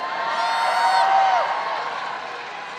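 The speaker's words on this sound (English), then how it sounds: "now they're chanting Tron" A crowd in a hall at a cosplay convention masquerade chants and cheers together, a loud, sustained mass of voices that swells and then slowly fades.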